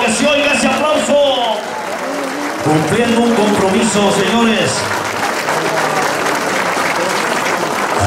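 A crowd applauds at a San Isidro patron saint festival in 2019, loud sustained clapping beneath someone speaking Spanish over an amplified voice, continuing strong to the end.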